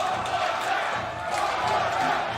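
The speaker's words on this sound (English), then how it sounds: "And the crowd is at it again" Mongolian fans roar and cheer at a women's 3x3 basketball game in Debrecen, a dense, steady wall of crowd noise that stays loud across the whole moment with shouts rising out of it.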